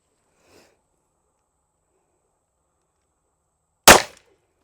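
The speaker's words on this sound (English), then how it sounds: "All right, so that's my 4th shot." A single sharp gunshot from a S&W pistol at a shooting range cracks out loud and close after a few seconds of near silence, with a short decaying tail; a faint soft noise comes earlier.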